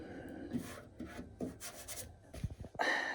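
Close, gritty rasping of sandpaper rubbed back and forth in short strokes over body filler on a Ford Escort XR3i, fairly quiet with uneven scratchy bursts.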